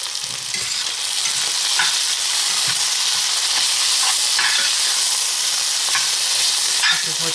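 Onions caramelizing in a hot pan for chicken patty melts hiss and sizzle continuously while being stirred, with scraping utensil strokes close by and no talking.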